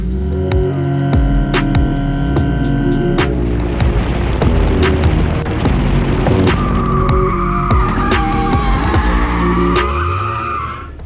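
Car tires squeal and roar loudly and continuously during a burnout competition at Cleetus and Cars Bradenton 2022, with engine revving and a dense crowd of mechanical noise throughout.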